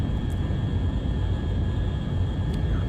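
The XR5 Vanguard spaceplane from the simulator Orbiter 2010, its main engines at full throttle while rolling down a runway, gives a steady, loud, broad roar and low rumble that holds constant throughout.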